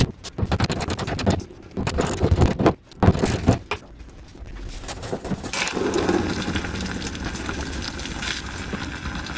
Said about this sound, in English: I'm going to take the drain plug out of the bottom of the fuel tank and drain the fuel tank as well